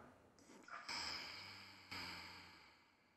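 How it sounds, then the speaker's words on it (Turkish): A woman doing a deep diaphragmatic breathing exercise draws in a slow, soft breath through the nose, followed by a second airy intake, faint and close. "Şimdi nefes alıyorum."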